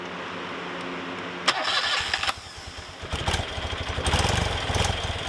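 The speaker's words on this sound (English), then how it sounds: "My bike idles really low since I haven't done any adjustments." A carbureted motorcycle engine idles very low during carburetor balancing, cranking and catching into a rough, uneven near-by idle that sputters and picks up slightly.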